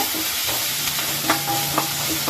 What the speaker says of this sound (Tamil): இது கூட இஞ்சி பூண்டு பேஸ்ட் சேர்த்துட்டு கொஞ்சம் பச்சை வாசனை போகிற வரைக்கும் வணக்கி விடுங்க